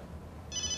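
A telephone starts ringing partway through: a bright, steady electronic ring tone that cuts in after a short quiet stretch.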